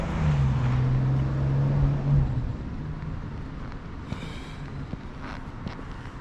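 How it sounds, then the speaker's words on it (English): A loud vehicle roars past close by on a small-town road, a low engine drone swelling and fading over several seconds amid wind buffeting, with faint background sounds after it passes. "it sounds like a pretty hot vehicle"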